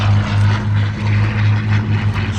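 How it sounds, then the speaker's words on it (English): Propeller aircraft engine drone at an air show, a steady loud low hum that swells and eases slightly as the plane passes overhead, with no talk. "And the planes are right there."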